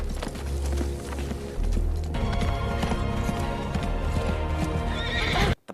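A horse runs hard with rapid clip-clop hoofbeats and a whinny, taken to ride to a rescue, loud and continuous throughout, with heavy low rumble, ending abruptly.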